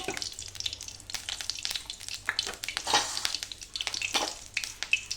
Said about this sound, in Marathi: मोहरी टाकते आहे आणि जिरे